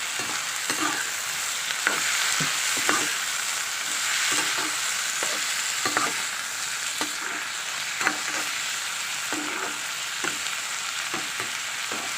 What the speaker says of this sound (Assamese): ফ্ৰাই কৰিলোঁ, আৰু এতিয়া আমি গেছ অফ কৰিম